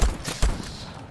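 Gunfire in the video game Voidtrain: two sharp low-thumping shots about half a second apart, followed by a fading rumble, with no talking over them.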